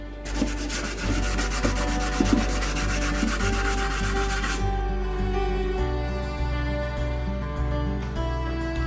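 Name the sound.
sanding filler on a wooden radio case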